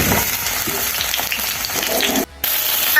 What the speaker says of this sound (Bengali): এখানে এখানে এখন সবজিগুলো ভাজি করে নেব।